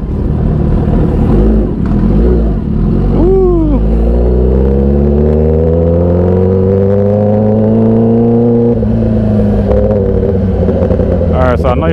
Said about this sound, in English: This bike is loud, bro.